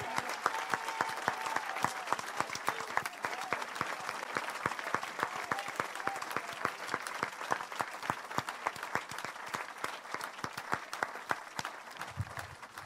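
A church congregation applauds to acclaim Jesus, with steady, dense clapping that stays loud and continuous throughout, with no pauses.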